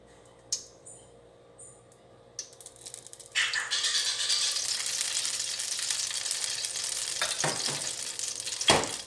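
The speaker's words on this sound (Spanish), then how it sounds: "Comenzamos a sofreír" Oil in a pan sizzling and frying as sautéing begins for Venezuelan arroz con pollo, a few clicks first, then a loud steady crackling hiss that continues close and unbroken to the end.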